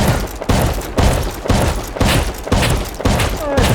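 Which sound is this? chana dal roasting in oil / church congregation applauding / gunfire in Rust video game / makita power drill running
gunfire in Rust video game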